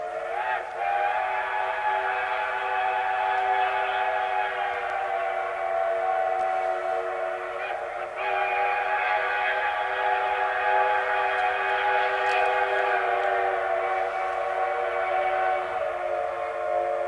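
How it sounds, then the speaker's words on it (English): Santa Fe 3751 steam locomotive sounding its five-chime whistle in one long, loud, steady blast of layered tones lasting many seconds, with a brief dip midway and no voices. "All of these locomotives were also fitted with the Santa Fe 5-chime whistle that sounded like."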